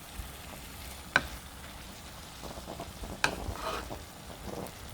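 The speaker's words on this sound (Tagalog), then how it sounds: "So, haluin lang din po natin para yung mushroom po natin is magkaroon din po ng ating napakasarap na sauce." Beef and king oyster mushroom simmering in sauce in a pan, stirred with a steady wet sizzle and a couple of sharp utensil clicks against the pan.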